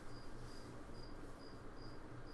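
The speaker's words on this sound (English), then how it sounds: "we got some loud crickets outside" Loud crickets chirp outdoors at night in a steady, pulsing rhythm of regular trills over a constant insect hum, continuous throughout with no voices.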